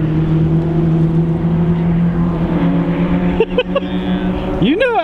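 Race car engines roar steadily at the Summit Point track, a sustained droning mix of motors close by, with a car sweeping past near the end and rising then falling in pitch.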